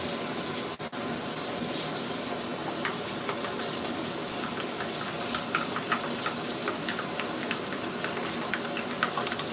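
Running tap water pours steadily while hair and beard are rinsed out after trimming and dyeing, making a continuous close splashing rush with no talking.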